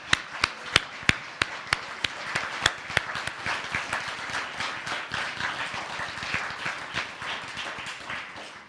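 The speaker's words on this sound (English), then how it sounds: "I would like us to all honor these wonderful humans with a round of applause" An award ceremony and gala audience applauds. A few sharp, loud individual claps ring out in a slow rhythm at first, then merge into a fuller, steady round of clapping from the room.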